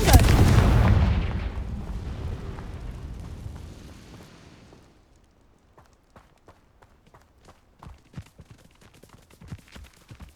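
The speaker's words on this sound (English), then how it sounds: "Revelio. Rependo. Confringo." In the video game Hogwarts Legacy, a Confringo fire spell erupts in a big booming blast that rolls off over several seconds, followed by a quieter run of scattered clicks and small impacts.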